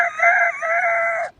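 A Kashmiri child imitates a rooster crowing with a single drawn-out, high, nasal cock-a-doodle-doo, loud and close with no other sound.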